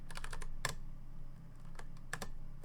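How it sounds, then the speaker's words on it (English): Typing on a computer keyboard while entering a grep command, a run of quick, close key clicks with a few sharper strikes, steady and alone with no talk. "So I'm going to type grep Chevy, and then I'm going to type in the file that I want to search."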